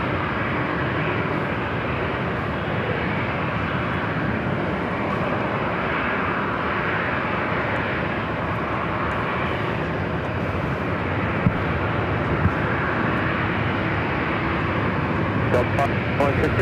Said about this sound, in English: Delta A321 Neo lining up now on 24 left, heading to Atlanta, Georgia